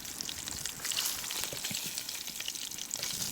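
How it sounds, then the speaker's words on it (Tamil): Pieces of rohu fish frying in hot oil in a pan, a continuous crackling sizzle with scattered popping bursts, close and moderately quiet, with no talk. "இப்போ நாங்கள் பொரியறதுக்கு போட்ட மீன் ஒரு பக்கம் நல்லா பொரிஞ்சு வந்துட்டு இப்போ எல்லாம் திருப்பி விடுவோம் பொரியட்டும்"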